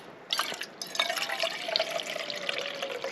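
Water poured from a container into a cooking pot at a campsite in the Sierra Nevada, a close, bright splashing and trickling stream that starts abruptly after a brief pause and runs on steadily.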